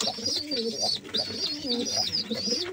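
Pigeons coo continuously in soft, rolling, repeated calls, close by, with faint chirps and background noise.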